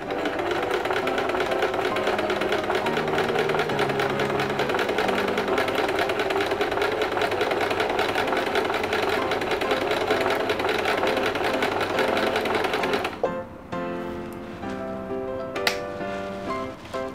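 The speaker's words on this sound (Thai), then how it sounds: "เดี๋ยวเย็บอีกทีหนึ่ง" Sewing machine stitches fabric in a steady, fast mechanical whir and rapid clatter for a long stretch, close and loud, then slows and stops with a few clicks.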